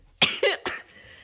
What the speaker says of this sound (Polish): Aż mnie kaszel złapał.